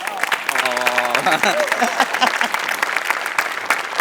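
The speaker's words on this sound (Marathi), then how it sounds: "तुझ्या तल्लख मेंदूसाठी आज टाळ्या" Studio audience applause on a Marathi comedy show, a lively burst of clapping mixed with crowd noise and overlapping voices, loud and close throughout.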